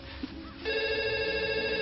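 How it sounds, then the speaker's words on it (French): A telephone rings indoors in a home kitchen where waffles are being served, its electronic tone starting abruptly partway through and sustaining loud and steady until the end, with faint household sounds underneath. "Non, ne décroche pas, c'est le travail."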